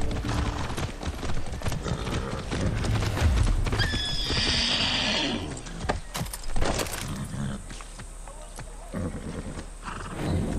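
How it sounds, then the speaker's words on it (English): Steady clip-clop of horse hooves in the video game Far Cry 6 runs throughout, with a horse whinnying midway and ambient game sounds layered around it. "I mean, you're riding a horse"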